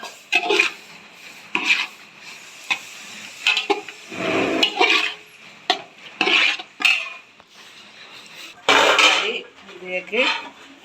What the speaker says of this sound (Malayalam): ഇതിലേക്ക് ഇറച്ചിട്ട് കൊടുത്താൽ നല്ലോണം ഇറച്ചി കൊടുക്കാം